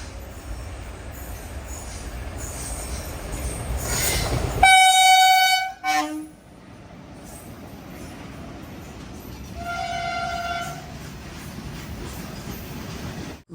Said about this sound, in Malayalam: ഇത് ഗുഡ്സ് ട്രെയിനാണ്.